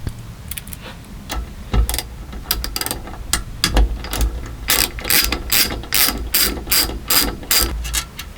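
A ratchet clicks in loud, close bursts while backing Allen key screws out of a racecar fuel surge tank, with short pauses between irregular runs of sharp clicks.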